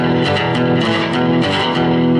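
Lap steel strings ring out continuously with a shimmering, sustained overtone wash, loud and close, without pauses.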